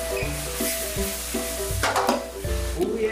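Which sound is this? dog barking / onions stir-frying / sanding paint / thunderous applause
onions stir-frying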